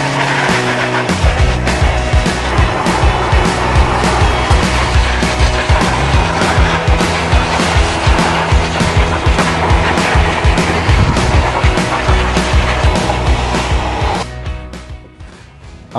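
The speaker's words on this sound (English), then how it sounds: "a little bit of a protection layer from the noise of the blower." A dog grooming blower dryer roars with a steady, loud, dense rush that runs without a break for about fourteen seconds, then cuts off and fades.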